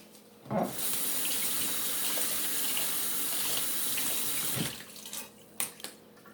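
A large basil leaf rinsed under a running kitchen tap: a short knock, then a steady loud rush of water for about four seconds that cuts off, followed by a few small clicks and handling sounds.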